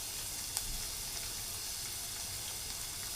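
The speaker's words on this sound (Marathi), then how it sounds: "आता ह्याच्यामध्ये मी टाकतो लसूण पेस्ट, थोडीशी लसूण पेस्ट" Garlic paste sizzling in a hot pan while a wild monsoon vegetable is cooked, a steady broad hiss with a small pop near the start, fairly faint and with no talking.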